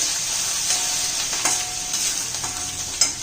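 Ginger-garlic paste frying with curry leaves in a pan, a steady hissing sizzle with occasional louder pops and stirring scrapes, close and continuous with no voices.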